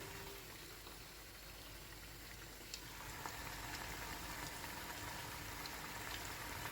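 Meat pieces frying in batches in oil on high heat, making a dense, steady, hissing sizzle that grows a little louder partway through, with no talking.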